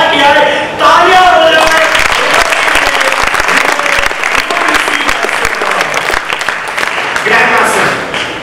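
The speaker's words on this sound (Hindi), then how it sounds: "तालियां" Loud, dense applause from a studio audience at a televised dance show, continuous clapping throughout with cheering voices mixed in.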